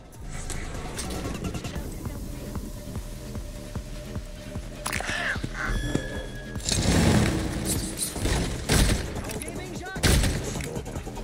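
Gunfire in the first-person shooter Redfall: bursts of shots and impacts over continuous game music and effects, with louder blasts toward the end, mixed with other game sounds and no clear talk.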